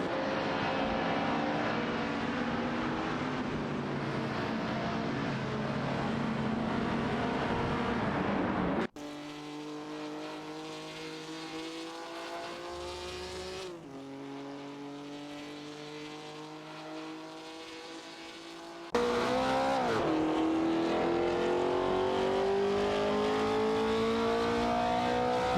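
Race cars including a Chrysler Valiant Charger and a Thavor Griffith 200 in an AI racing video game, a continuous engine drone with rising and falling revs and gear shifts, switching between car sounds.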